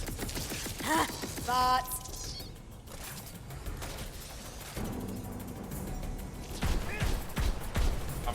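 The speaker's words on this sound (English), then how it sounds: "Let's get casting and blasting. Magic barrage." A magic barrage spell in Tiny Tina's Wonderlands fires off in a cluttered burst of crackling blasts and impacts amid busy battle noise, with brief bits of speech mixed in.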